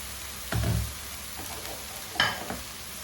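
Vegetables and olives sizzling gently in a pan for a mallow (khobbiza) dish, a low background crackle broken by two brief, louder bursts of stirring and scraping.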